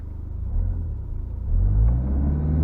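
A Volvo 2.0T car pulls away hard from a standstill, its engine a deep, steady rumble that swells louder partway through as it accelerates, close by with no talking.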